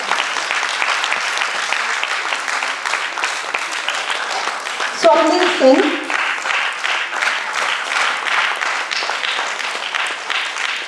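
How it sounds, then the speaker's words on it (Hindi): An audience gives sustained applause for dance performers at a stage show. The dense clapping runs throughout, with a brief louder swell midway, while a voice announces names over it. "तालियां बजती रहे"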